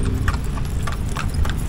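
A young horse walks on a street in Manila, its hooves clip-clopping in a steady rhythm close by over low engine rumble and city background.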